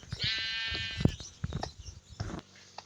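Sheep in the video game Minecraft bleating several times in short wavering calls, mixed with game clicks and thumps, close and fairly loud, no speech.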